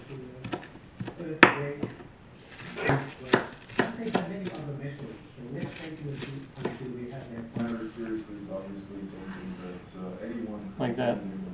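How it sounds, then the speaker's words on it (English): Rough chopping of spinach and cilantro on a board for vegetable soup, a run of soft irregular knife chops, with one sharper knock early on and a steady low background hum. "Then we'll rough chop the spinach and cilantro."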